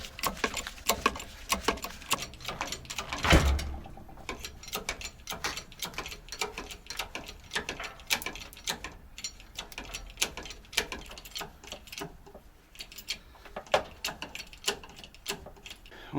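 Mechanical jacking on a Volvo FH truck with a locked inter-axle differential, heard as dense irregular clicking and ratcheting clatter with a louder knock near the start, running steadily throughout over low workshop rumble.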